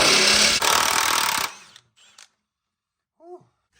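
A power drill bores loudly through engine mount brackets in the bay of an ES1 chassis during a K20 engine swap, running steadily for over a second before stopping, followed by a few soft clinks and a brief vocal sound.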